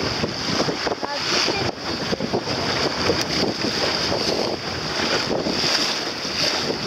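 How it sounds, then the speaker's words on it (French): Motor launch passing a small sailing dinghy on open water, engine drone mixed with wind buffeting and splashing waves, steady and fairly loud throughout. "La vedette."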